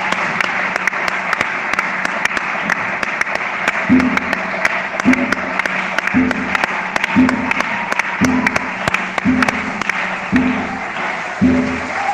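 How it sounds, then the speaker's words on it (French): A church congregation applauds steadily through a French-language teaching service, a dense, continuous wash of many hands clapping in a large room, with a few rhythmic low thumps recurring underneath. "Moi, je vais acclamer cette parole."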